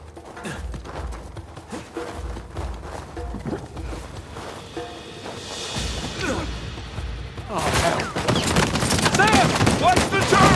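Turret machine gun fire in Uncharted 4 rattles in rapid bursts, building louder toward the end amid crashing debris and battle noise, with voices in the mix.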